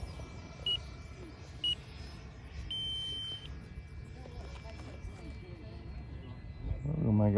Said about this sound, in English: Timer's beeping now.